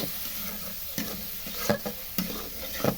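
Roasted cumin and spices sizzle in a pan for a shrimp and green banana curry, with a few sharp scraping stirs breaking through the soft, continuous frying hiss.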